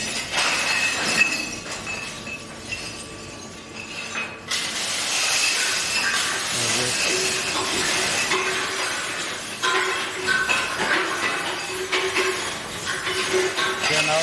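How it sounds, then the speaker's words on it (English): Glass crushing machine at a recycling plant grinding broken glass, a continuous harsh crunching and clinking roar with a hissing mechanical undertone, steady and close, with no voices over it. "Yeah, now the machine is crushing the glass."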